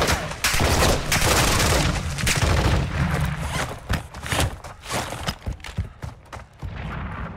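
Call of Duty Modern Warfare 2 gunfire rattles in dense, loud bursts of rapid shots with booming impacts, thinning into scattered single cracks toward the end.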